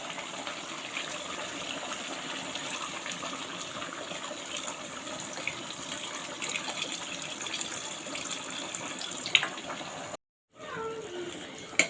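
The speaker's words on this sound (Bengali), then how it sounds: "এখন আমি ঝোলের জন্য পানি দিয়ে দিব।" Water pours steadily into chicken curry for a thin gravy, a continuous close gush over low kitchen hum that breaks off briefly near the end before faint clatter resumes.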